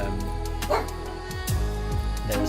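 A dog barks a few times in a home, with short, sharp woofs rising over a steady background hum of game music, and no talk over them.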